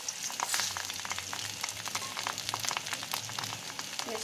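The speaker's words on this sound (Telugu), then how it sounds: "పాన్ పెట్టుకొని అందులో నూనె వేసి అందులో పచ్చిమిరపకాయలు కరివేపాకు" Green chillies and curry leaves fry in hot oil in a pan for a tempering, a steady close crackling sizzle with dense pops throughout and no talking.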